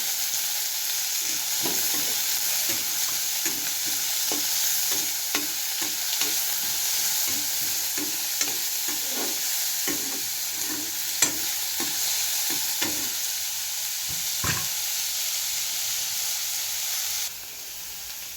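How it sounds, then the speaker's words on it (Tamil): Onions sautéing in a pan with chillies for an amaranth-greens stir-fry, a steady sizzle broken by repeated scraping stirs of a spatula, close and continuous with no voices. "வெங்காயம் போட்டு நல்லா வதக்கணும்."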